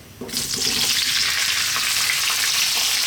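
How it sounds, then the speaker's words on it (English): Parboiled potatoes hit a hot pan with fragrant seeds for a potato and eggplant curry, bursting into a loud, steady hiss of frying that carries on alone without a break. "let's fry these around in those beautiful fragrant seeds for about 3 to 4 minutes"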